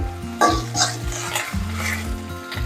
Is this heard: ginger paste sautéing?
yes